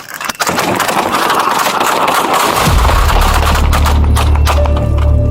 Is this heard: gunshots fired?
yes